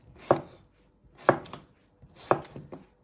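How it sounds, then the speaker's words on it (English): A knife slices vegetables on a cutting board with three crisp, evenly spaced chops, close and clear with no voices. "And you just want to slice it"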